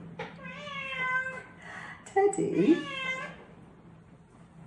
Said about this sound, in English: it's a lot easier if you do not have a cat whinging at you in the background